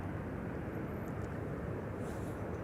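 An Air France airliner taxis toward the runway threshold at Amsterdam Schiphol Airport, its jet engines a steady, distant broadband roar that holds even throughout, with no talking.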